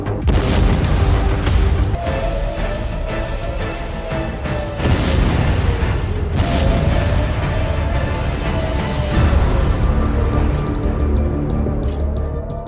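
Missile strikes exploding over the city of Beersheba, a continuous loud rumbling roar with heavy low booms and crashing bursts throughout, no voices.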